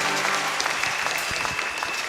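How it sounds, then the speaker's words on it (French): Church congregation applauding at a morning gathering, a dense steady clapping from many hands that fills the whole stretch at an even level. "Est-ce qu'on peut acclamer pour la vie?"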